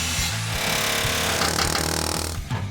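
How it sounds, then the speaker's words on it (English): A tool cuts factory bump stop housings off a steel truck frame, making a loud, continuous, harsh cutting and grinding noise with a rhythmic pulsing rattle, close by with no talk. "We need to get rid of the factory bump stops by cutting the housings off the frame."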